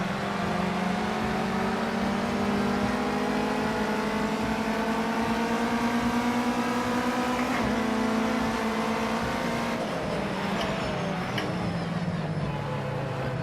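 Race car engine in Project Cars 2 during a wet-weather test, droning loud and steady with rising and falling harmonic tones as it accelerates, shifts and brakes, then dropping in pitch near the end.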